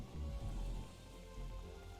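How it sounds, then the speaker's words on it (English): Rain falling in the video game Star Trek Online, a steady dense patter of drops on surfaces, continuous and fairly soft, with no voices. "It's raining. Wouldn't you know it?"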